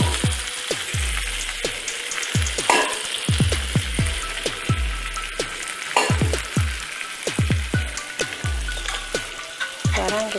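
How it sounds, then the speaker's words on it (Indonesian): Onion sambal ingredients fry in hot oil with a steady broadband sizzle, punctuated by repeated sharp scraping clacks of a spatula stirring the pan at an irregular rhythm, close and fairly loud with no talk. "Sekarang kita goreng sampai semuanya layu,"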